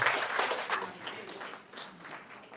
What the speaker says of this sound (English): Can you please give Basi a round of applause?